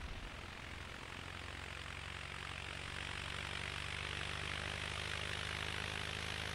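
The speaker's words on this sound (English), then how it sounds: "It's a Cessna, so, you know, how much runway do you need?" In the Tower! Simulator 3 game, a small Cessna propeller plane takes off with a loud, steady engine drone and broad rushing noise that holds throughout, with no talk over it.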